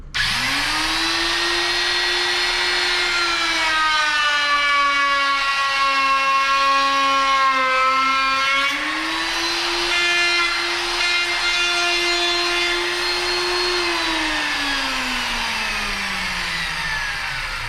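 A woodworking router motor with its bit whines steadily at high speed. The pitch wavers and then slides smoothly downward as it winds down toward a stop. It is close and loud with no talking.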